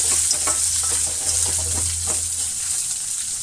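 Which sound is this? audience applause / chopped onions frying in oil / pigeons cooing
chopped onions frying in oil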